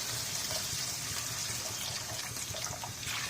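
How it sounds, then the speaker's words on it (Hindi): Water poured into mutton karahi in a pan, a soft, steady splash and trickle close by, with no voices. "तो थोड़ा सा पानी और ऐड कर देंगे हम"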